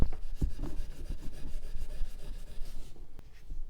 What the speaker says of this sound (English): I got to do the steel wool.